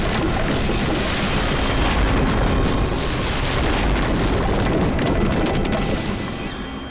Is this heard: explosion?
yes